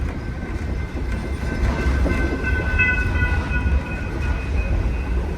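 Steam locomotive 2102 rumbles steadily along the rails with rhythmic clatter, and faint whistle-like tones ring out over the low, continuous rolling noise.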